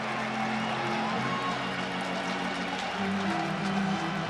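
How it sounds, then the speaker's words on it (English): A baseball stadium crowd at a World Series game between the Dodgers and Yankees, giving off a dense, continuous murmur that fills the space and carries steadily at a moderate level. "Crowd bubbling, hoping"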